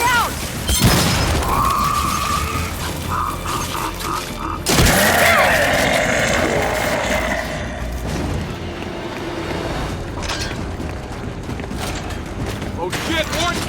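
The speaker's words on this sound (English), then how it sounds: "Flashbang out!" A flashbang grenade detonates in the Gears of War 5 video game, heard as sharp booming bursts amid ongoing combat noise, with shouted voices over the battle.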